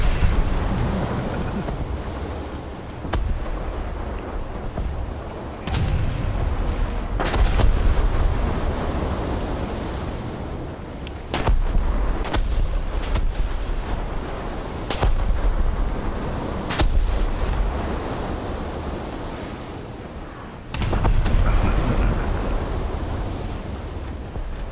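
Naval battle gunfire in a video game: repeated loud booming cannon shots at irregular intervals over a constant rush of wind and sea noise.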